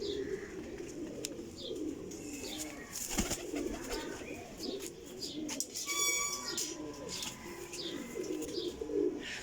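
Teddy pigeons coo softly and repeatedly nearby, with rustling, a few sharp clicks, and a brief bird chirp mixed in against steady background noise.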